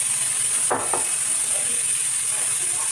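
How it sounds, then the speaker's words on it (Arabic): Chicken carcass pieces frying in oil in a pan: a loud, close, steady hiss with a couple of sharp scraping bursts early on. "وتبداي تقلي هذاك الدجاج مع البصل، تقليه مليح حتى يدبل البصل تاعك"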